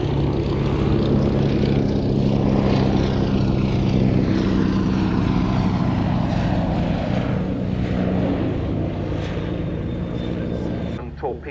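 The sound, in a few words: Fairey Swordfish propeller biplane flying at airshow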